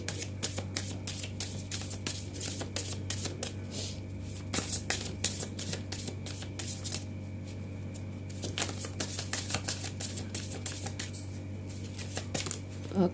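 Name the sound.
tarot cards being shuffled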